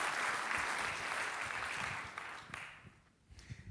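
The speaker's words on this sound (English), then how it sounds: "please give Zwift a round of applause for their investment and their growth in our community" An audience at a Long Beach civic event claps in a dense, steady burst of applause that fades toward the end, leaving a few scattered claps.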